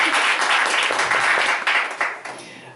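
An audience at a French literary evening applauds, a dense, close wash of clapping that holds steady and then thins and fades toward the end.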